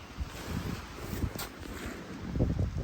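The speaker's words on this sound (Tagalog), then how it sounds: "May hangin pa nga, eh" Winter wind in Quebec buffeting the microphone in steady low rumbling gusts, swelling louder near the end, with no voices.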